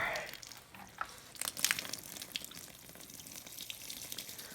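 Water pouring out and splashing onto a garage floor, a quiet, steady trickle with brief louder spatters in the middle, fairly close and heard alone.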